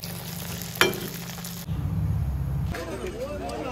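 Pitha rice cakes frying in hot oil at a village market, a steady sizzle and bubbling under a low hum, with a sharp clatter near the start and voices talking over it.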